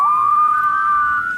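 A single steady, loud whistled tone held for over a second, slightly rising at the start, alone with no talk.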